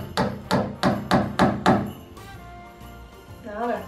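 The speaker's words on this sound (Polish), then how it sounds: "Dawaj, wbijaj gwoździe." Hammer driving nails while Christmas decorations are hung in a living room: six sharp, evenly spaced strikes, loud and close, then a brief stretch of quieter handling noise and faint voices.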